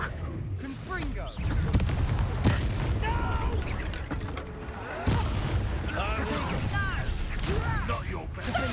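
Confringo blasting spell combat in Hogwarts Legacy, with repeated explosive booms and crashing impacts over a rumbling battle bed, a voice briefly heard amid the fight.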